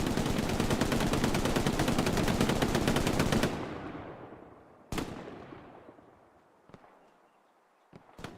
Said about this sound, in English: Does he get away from the MG fire though?